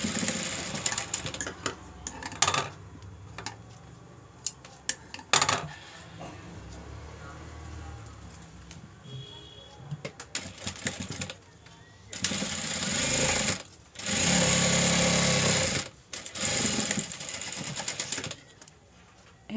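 A sewing machine stitches a 36-inch four-tuck blouse, running in quick rattling bursts. Short stops and starts come first, then longer continuous runs near the end, with a few light handling noises between.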